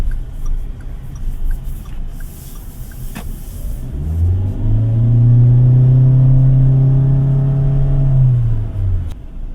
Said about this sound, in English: Road noise is kept at a minimum here.